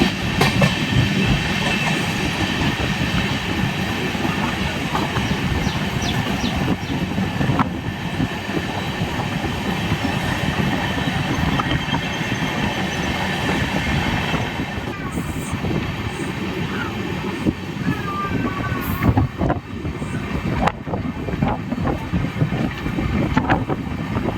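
An Amrit Bharat Express train running from Thiruvananthapuram to Chennai, heard from on board as a constant loud rumble with rhythmic wheel clatter and wind buffeting the microphone throughout.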